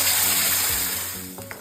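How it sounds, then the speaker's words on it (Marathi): Curry leaves and ground masala paste frying in hot oil in a kadhai give a steady, close hiss and crackle with faint underlying hum, no voices. "सर्वात आधी मी ते कढीपत्ता टाकला आहे त्यानंतर आपण जे वाटण केलं होतं ते वाटण टाकूया"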